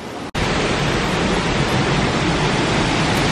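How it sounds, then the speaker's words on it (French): The Aling Aling waterfall in northern Bali roars steadily up close, a loud, unbroken broadband rush of falling water after a brief cut at the very start. "La fameuse cascade Aling Aling."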